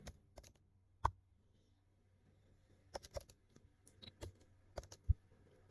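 Code being typed on a computer keyboard, sparse soft key clicks in short irregular bursts with a lull in the middle, close and quiet.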